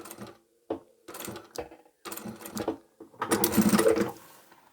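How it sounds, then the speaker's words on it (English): A sewing machine stitches a fabric pouch in several short bursts separated by pauses, with a brief backstitch and a longer, louder run near the end; no talking. "When you get to the corner, back stitch, go forward again,"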